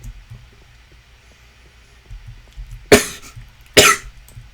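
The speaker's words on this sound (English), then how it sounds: "Man, I'm coughing." A person gives two sharp, loud coughs about a second apart, close to the mic, over a quiet background hum.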